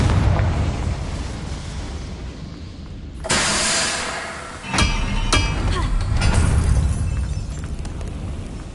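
A Confringo blasting curse goes off in the Hogwarts Legacy video game on PS5, a sudden loud burst followed by a second blast and crackling debris, over ambient game sound.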